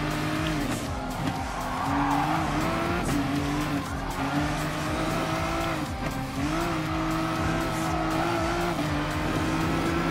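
Race cars in Gran Turismo Sport, including a Nissan GTR and an M6, with a loud continuous engine drone that rises and falls through gear changes, plus tire squeal through the turns.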